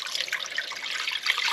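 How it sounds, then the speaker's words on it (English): Cold tap water pours steadily into a big pot, a continuous close hiss and splash that fills the whole moment, with no voices over it. "Just cold water straight out the tap,"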